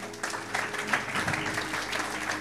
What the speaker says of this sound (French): Acclamons pour le Saint-Esprit.